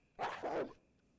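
A dog in the video game Resident Evil HD gives a single short, fairly faint bark, lasting about half a second, against a quiet background.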